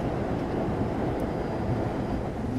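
An M local subway train runs along the track, a steady low rumble and rolling rattle of railcars heard from inside, continuous and moderately loud with no talk.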